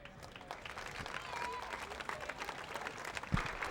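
Distant crowd applause in a football stadium during an alumni recognition ceremony at a college game: faint, diffuse clapping mixed with crowd murmur and a few voices.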